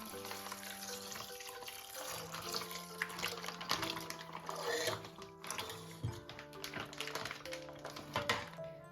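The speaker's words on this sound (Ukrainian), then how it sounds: "Одразу в каструлю додаємо літр молока." A litre of milk pours steadily into a pot for making hard cheese, a continuous splashing gurgle with steady background hum and clatter throughout.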